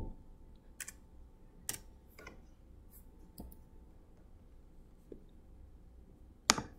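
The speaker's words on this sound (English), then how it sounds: "I'm not typing correctly." Sparse, quiet keyboard clicks scattered over a few seconds, a handful of separate keystrokes rather than fast continuous typing, with one sharper click at the end.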